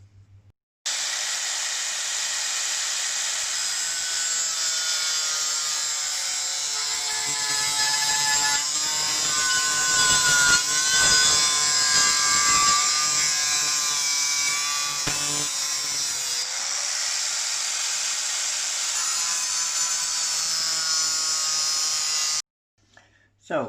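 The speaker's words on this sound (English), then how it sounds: "with the grinder." A power grinder cuts a line around a motorcycle fork embellisher, trimming the part, as a steady high-pitched whine running about twenty seconds with slight rises and falls in pitch.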